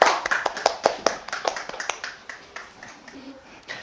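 A small yoga class claps briefly, the sharp hand claps starting brisk and loud, then thinning out and fading over a few seconds.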